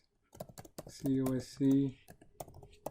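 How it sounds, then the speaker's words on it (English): Fast clicking keystrokes on a misbehaving computer keyboard, close and clear, running under and between a man's speech. "My keyboard is acting up."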